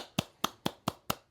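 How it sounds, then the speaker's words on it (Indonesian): Six crisp hand claps at a steady, quick pace, fairly faint and close, with nothing else around them. "Tepuk tangan dulu."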